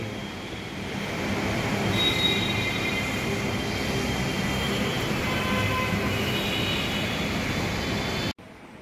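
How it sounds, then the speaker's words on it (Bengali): A metro train on Kolkata's Blue Line pulls into a station at night, a loud steady rumble of wheels and rail noise with faint squeal filling the clip before it cuts off abruptly near the end. "here comes our last metro"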